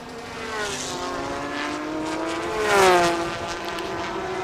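A Ferrari race car in the Thailand Super Series circuit race passes with a sustained high engine drone whose pitch shifts as it nears and moves away, louder near the middle.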